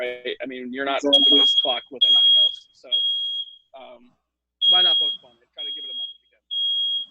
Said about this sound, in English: That's my fire alarm going off.